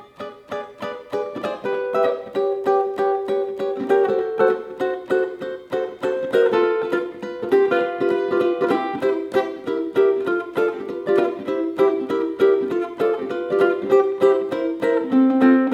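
A ukulele strums a swing chord progression for a song's bridge in a bouncy, rhythmic pattern, each chord bright and close, played solo with no voices.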